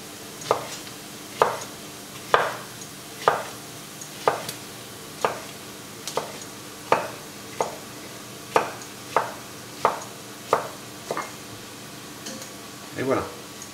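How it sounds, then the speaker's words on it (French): A courgette chopped coarsely with a knife on a cutting board, about fifteen crisp, evenly spaced knocks over a low background hum. "Donc la courgette, vous venez la hacher grossièrement."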